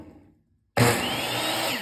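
A Delta 36-220 10-inch miter saw motor starts abruptly after a moment of near silence, then runs steadily with a loud, bright whine and whirr close by.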